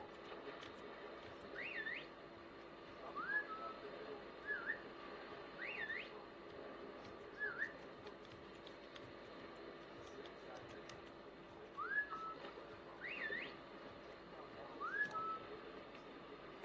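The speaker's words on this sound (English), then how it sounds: "Why did I just hear another whistle?" In the video game The Classrooms, a series of short rising whistles repeats every second or two at low level over a faint steady background hum.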